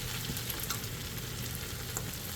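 Shrimp frying in a pan with leftover bacon fat and butter, giving a continuous, dense hiss of sizzling oil with faint crackles throughout.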